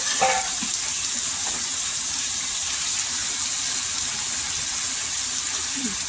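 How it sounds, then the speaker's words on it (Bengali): Heavy rain falls steadily outdoors, a dense, constant broadband hiss that stays loud and even throughout, with no talk. "খুব বৃষ্টি হচ্ছে এখানে।"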